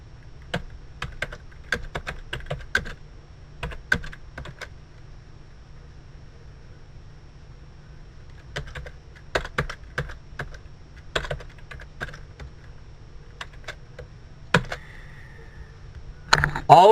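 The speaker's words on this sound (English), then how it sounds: "The next thing I'm going to type in here" Bursts of keystrokes on a computer keyboard while entering HTML code, clustered in quick runs separated by quiet pauses, close and fairly soft, with no talk over it.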